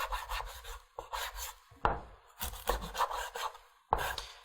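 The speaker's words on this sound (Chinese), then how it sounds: "我们洗净之后，我们就给它切剁大块哈" Grass carp chopped into large chunks on a wooden board, a series of about five firm knife strokes with scraping between them, close and clear, no talk.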